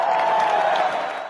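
An audience claps and cheers at a comedy talk show, a dense, loud burst of applause from a crowd that holds steady and then starts to fade over about a second.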